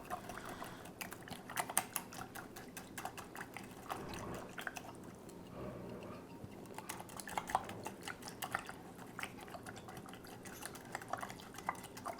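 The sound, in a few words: whisking Salisbury steak mixture in a bowl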